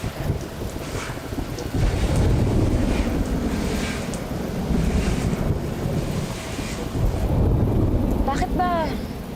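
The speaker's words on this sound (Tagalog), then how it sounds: "Titigil din naman yung ulan." Heavy rain pours steadily and loudly, with a rumble of thunder and wind noise buffeting the microphone, and a brief sharp squeak near the end.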